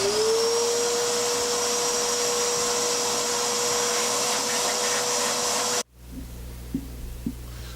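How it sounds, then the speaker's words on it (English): A shop vacuum hooked to a CNC router's dust shoe runs at a loud steady whine for several seconds, then cuts off abruptly, leaving faint room noise and a couple of small clicks. "I just want to turn on the vacuum here and see how the suction's working"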